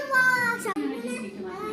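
A voice imitates a cow mooing with a sustained, tonal, drawn-out call lasting about a second, close and clear.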